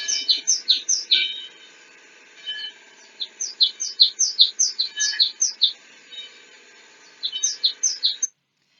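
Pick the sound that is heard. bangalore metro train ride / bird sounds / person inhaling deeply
bird sounds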